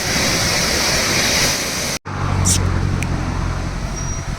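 Nangartas waterfall at Amboli ghat roars as a constant broadband rush, loud and near, with road traffic blended in; the sound cuts briefly midway, then resumes with a faint passing vehicle.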